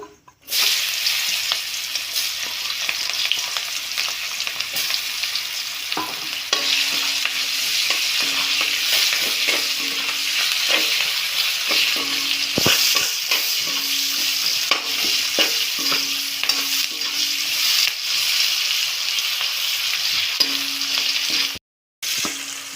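Chopped onion sizzles steadily in hot oil with bay leaf and cumin in a pan for a Bengali fish curry, stirred now and then with a spoon scraping the pan; the frying stays close and loud throughout with no talk.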